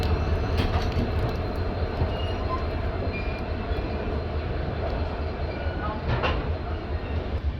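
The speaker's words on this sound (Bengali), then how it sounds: "ট্রেন নিউ জলপাইগুড়ি স্টেশন থেকে ধীরে ধীরে বেরিয়ে যাচ্ছে।" Uttarbanga Express pulling slowly out of New Jalpaiguri station just after rain, a steady, loud low rumble of rolling wagons with faint scattered rattles and a brief clatter near the end, no talking.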